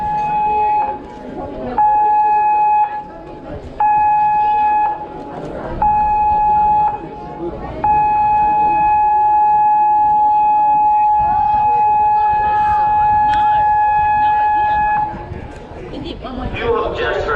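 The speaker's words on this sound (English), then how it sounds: "You have just heard the general emergency alarm." A cruise ship's general emergency alarm sounds as a steady, loud tone in repeated long blasts with short gaps, ringing out for many seconds over background crowd noise and talk.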